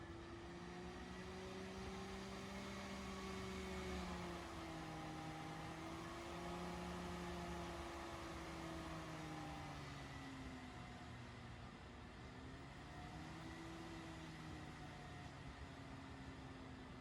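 A Dell XPS 8930 desktop's CPU cooler fan roars at high speed during a slicing job, a loud steady whine with wavering tonal pitch that rises and falls over the sustained whoosh, no talk.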